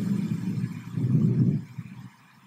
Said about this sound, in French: Voici le bruit d'un orage.